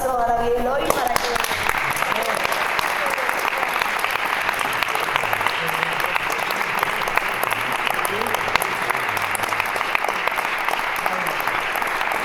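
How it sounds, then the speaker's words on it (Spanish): Sustained audience applause fills the whole stretch after a brief opening sound, steady and dense at an event about stage poetry, with no talk over it. "yo simplemente le daría un gran aplauso a David Eloy para que..."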